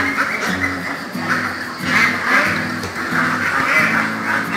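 Dense flock of ducks quacking continuously at a duck breeding farm in Kế Sách, Sóc Trăng, birds nearly fifty days old, a loud overlapping chorus of harsh calls close by with no talk.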